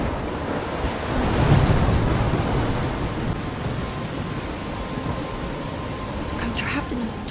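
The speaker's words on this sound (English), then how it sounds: "I'm trapped in a storm?" Heavy rain and wind roar through a thunderstorm in the game Life Is Strange, a dense continuous wash with rumbling swells and no clear speech.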